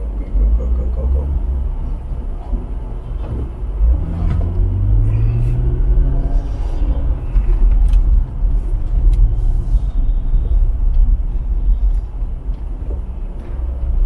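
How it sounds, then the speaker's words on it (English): Heavy road traffic on a busy street in Pereira, Colombia: a continuous rumble of engines with a vehicle pulling away and a brief horn, close and steady, with no voices over it. "the traffic was nuts"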